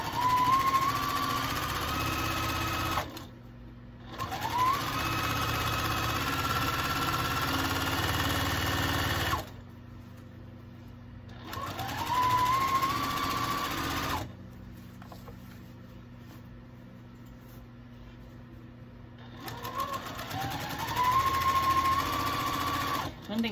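A sewing machine stitches around the edge of a fabric circle for a sourdough bread basket liner, running in several steady bursts of mid-level whirring separated by short pauses.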